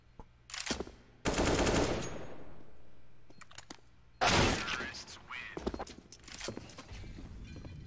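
Rapid bursts of gunfire crackle in a Counter-Strike: Global Offensive esports match, with two loud volleys and scattered sharper shots, mixed with excited player chatter.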